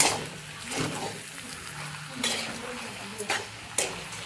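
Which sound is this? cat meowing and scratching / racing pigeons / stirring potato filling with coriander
stirring potato filling with coriander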